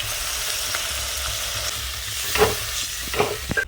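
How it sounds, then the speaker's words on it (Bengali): Water hits a spice paste frying in oil for a thin fish curry, and the steady sizzle flares into a few sharp hissing bursts near the end, close and fairly loud. "সাদা মাঠা রান্না করার জন্য আমি পাতলা করে ঝোলটা করে নেব তার জন্য আমি জল দিয়ে নিচ্ছি"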